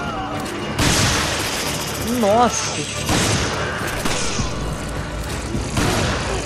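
Gunfire in Resident Evil 5, with several loud booming shots and mechanical clatter spread across the stretch amid game noise, while a player exclaims over it.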